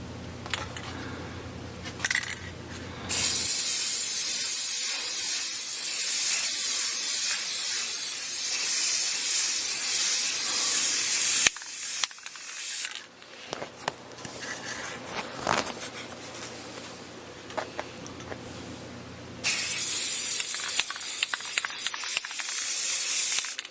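Long steady hiss of an aerosol can of clear gloss spray close by, coating a wooden sign, running in extended bursts with short breaks and faint handling noises between.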